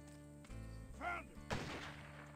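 Gunfire in a role-playing video game: a couple of sharp, booming shots a second apart over a steady game soundtrack, the second blast trailing off into a rumbling echo.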